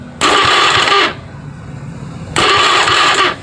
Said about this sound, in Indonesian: Akan saya starter.